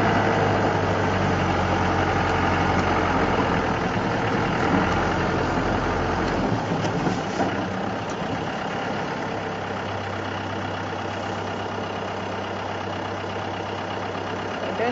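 A safari vehicle's engine idles close by during a game drive at MalaMala, giving a steady low rumble that softens partway through and continues more quietly, with no one talking.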